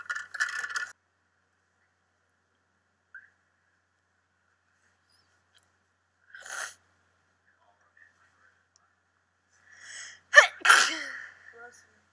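Indoors in the Big Brother 20 house, short scattered breathy bursts lead to a loud, close human sneeze near the end, with long quiet gaps between sounds.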